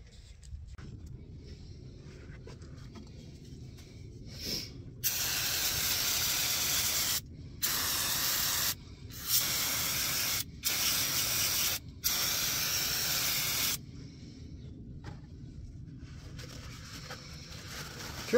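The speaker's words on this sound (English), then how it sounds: "Try to use brake cleaner is what I use." Brake cleaner sprayed onto the oily, grimy parts of a John Deere 544D loader comes as loud, close hissing bursts of varying length, about six of them with short gaps between, over faint background noise.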